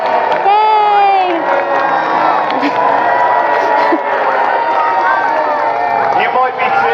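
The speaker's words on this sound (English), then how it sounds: "take in the cheers, take in the boos" An arena audience at a Roman gladiator show cheers and whoops loudly and continuously, with shouting voices mixed into the crowd noise.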